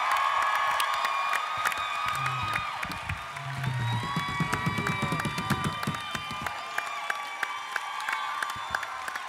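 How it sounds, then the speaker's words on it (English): A comic convention crowd in Phoenix, Arizona claps and cheers loudly, with scattered whoops and whistles rising over sustained applause that slowly thins toward the end. "big round of applause."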